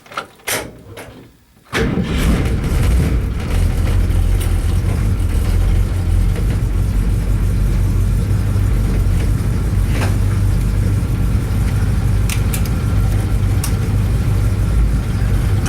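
Panel truck engine catches after a brief start attempt and settles into a steady, loud, close idle that keeps running to the end with no talk.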